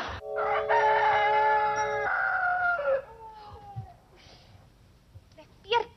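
A rooster crows loudly and close by in one long drawn-out call, followed by quieter clucks and faint noises.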